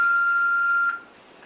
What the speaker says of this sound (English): To leave a voice message, please speak after the beep.